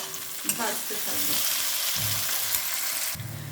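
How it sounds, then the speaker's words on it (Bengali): Onions frying in a pan with a steady, close sizzle, punctuated by several stirring scrapes and clanks of a spatula against the pan. "পেঁয়াজটা ভাজা হয়ে গেছে"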